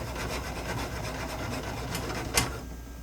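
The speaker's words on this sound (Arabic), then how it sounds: "طبعا نحرك" A thick mixture of potato and tamarind is stirred in a cooking pot, giving a steady, close scraping and rubbing, with one brief louder knock of the spoon near the end.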